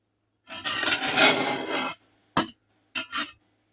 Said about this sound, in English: If you don't have a dough scraper, you can use a metal spatula.